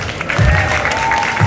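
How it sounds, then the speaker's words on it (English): An audience honouring an international artist at a community service award ceremony applauds, a brief loud burst of clapping with some crowd noise and low thumps underneath. "A strong round of applause"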